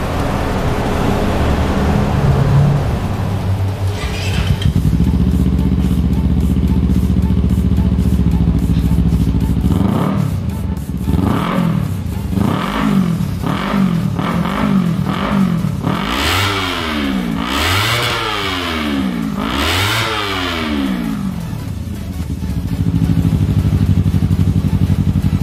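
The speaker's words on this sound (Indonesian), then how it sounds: "untuk soundnya sendiri Austin Racing, yang ini cukup keras karena kita tidak menggunakan DB Killer" Honda CBR250RR sport bike fitted with an Austin Racing exhaust and no dB killer, revved hard repeatedly in loud rising-and-falling bursts over a steady idle, the revs climbing higher and sharper toward the end.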